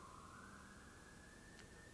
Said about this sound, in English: Too much of a problem with the siren?